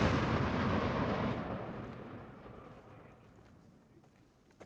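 An M3E1 MAAWS anti-armor recoilless rifle firing, a loud booming blast already ringing at the start and slowly rolling off and fading over several seconds, with no talk.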